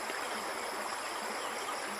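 A small stream of water flows steadily, a soft continuous hiss and burble heard alone, fairly faint and even throughout.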